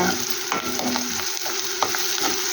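Vegetables frying in a pan, with a continuous close sizzle broken by repeated stirring scrapes and clicks at an irregular pace, moderately loud, with no talking.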